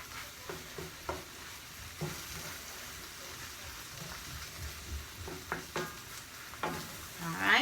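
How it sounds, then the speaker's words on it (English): Okra simmers and sizzles in a pot for sausage and shrimp creole, a soft steady bubbling hiss broken by intermittent spoon stirs and scrapes against the pot, fairly quiet and close, with no talking. "next I'm going to be adding my okra"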